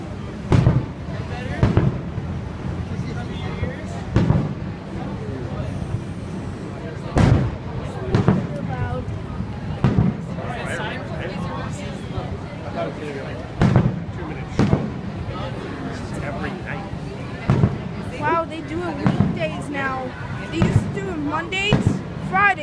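Sharp, scattered bangs of fireworks going off at irregular intervals over a steady background murmur, with people talking throughout, at Niagara Falls.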